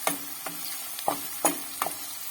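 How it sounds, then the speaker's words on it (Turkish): A ladle stirs beaten egg into a spinach pie filling with oil and salt in a pan, making about five distinct scraping clacks at an irregular pace, close and fairly clear over a soft background hiss. "Şöyle bir karıştıralım"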